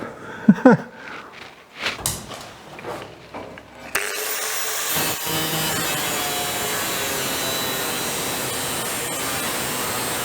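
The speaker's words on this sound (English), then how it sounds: "You can do this with an old-fashioned hacksaw." A hand hacksaw cutting through the metal roof of a 1951 Chevy truck: rhythmic rasping strokes at first, then a continuous, close, harsh grinding scrape that holds steady to the end.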